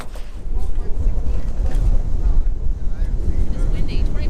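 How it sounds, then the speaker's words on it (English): Strong wind of about 25 knots, gusting near 30, buffets a sailing catamaran at sea, a loud continuous roar with rumbling microphone wind noise throughout. "It's windy, 25 knots of wind"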